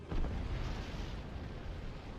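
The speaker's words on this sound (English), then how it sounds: "nuclear explosion successful" A nuclear explosion in the video game Guild Wars Reforged gives a deep, sustained rumbling roar that fills the whole span, loud and continuous with no voices.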